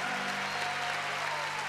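A church congregation at an evening Baptist service claps for Pastor Márcio, a brief, steady wash of applause heard at a moderate distance.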